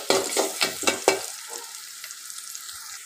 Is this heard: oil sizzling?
yes